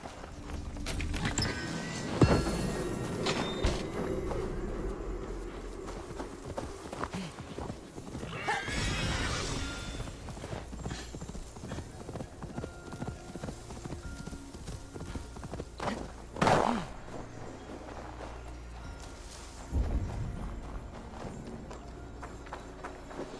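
A horse in Assassin's Creed Valhalla walking with steady clip-clop hoofbeats, broken by several loud whinnying neighs at intervals across the stretch, close and clear, with no speech.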